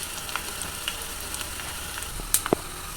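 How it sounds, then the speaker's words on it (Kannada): Garlic roasting in oil for a tempering, heard up close as an even low sizzle with a few sharp pops near the end and no talking. "ಹಾಗಾಗಿ ನಾನು ಇವಾಗ ಸ್ವಲ್ಪ ರೋಸ್ಟ್ ಮಾಡ್ತಾಯಿದ್ದೀನಿ. ಆ ಬೆಳ್ಳುಳ್ಳಿ ಫ್ಲೇವರು ಚೆನ್ನಾಗಿ ಎಣ್ಣೆಯಲ್ಲಿ ಬಿಡಬೇಕು"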